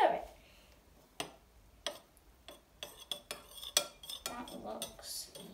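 A spoon stirs Greek lentils in a pot, giving a run of sharp metallic clinks and scrapes at an irregular pace, close and moderately loud against a quiet background.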